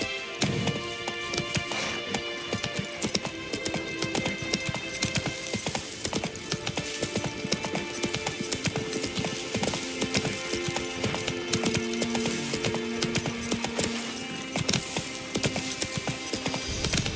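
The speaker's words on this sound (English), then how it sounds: "Whoa there, Roach" A horse in the video game The Witcher 3 trots with rhythmic hoof clip-clops over a dense, busy game soundscape, steady and fairly loud throughout.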